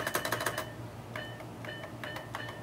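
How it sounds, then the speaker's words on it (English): A second-generation Macintosh 512k computer gives short electronic beeps as keys are pressed, a quick rattling burst of key clicks at the start followed by several separate beeps spaced out. "Oh, it makes a noise every time you hit a key."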